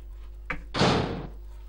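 A door opens in the Resident Evil 2 video game, a short click followed by a louder swinging or sliding rush lasting about half a second, heard alone without talk.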